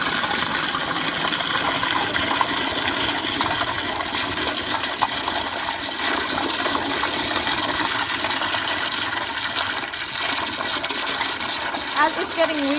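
A Crane Placidus toilet flushes with a full tank, giving a loud, continuous rush and gurgle of water that carries on at full strength, with a faint voice underneath near the end.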